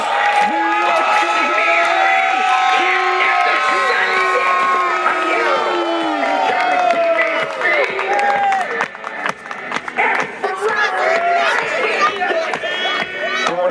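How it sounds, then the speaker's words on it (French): A wrestling event crowd at CWF Back to Hell 2016 claps and cheers loudly and continuously, with whistles and shouts over the applause and a voice talking through it. "Mesdames et messieurs, un tonnerre d'applaudissements pour"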